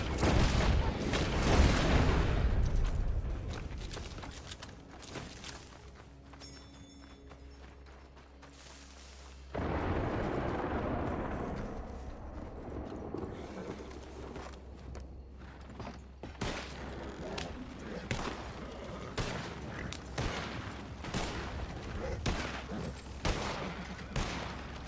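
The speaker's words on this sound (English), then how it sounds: "What were you guys shooting at right now?" Gunfire in the video game Red Dead Online: bursts of loud overlapping shots and booms at the start, then sparser sharp cracks and scattered reports through a noisy stretch.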